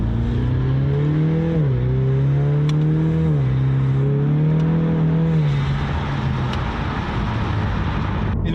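A Mustang's engine hums steadily while driving, its pitch rising and dipping slightly as it shifts through gears, loud and close throughout with no talking over it.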